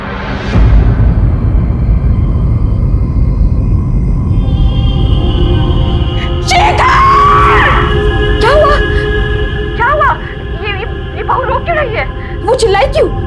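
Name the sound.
woman screaming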